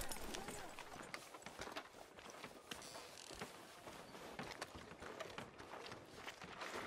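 A horse walks in Red Dead Redemption 2, with steady clip-clop hoofbeats under talking and a busy game soundscape, fairly faint in the mix.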